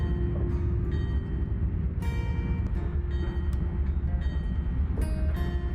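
Steady rumble of a freight train running through scenery in Microsoft Train Simulator, heard from inside the cab, with a continuous low drone and occasional faint clanks and whines over the top.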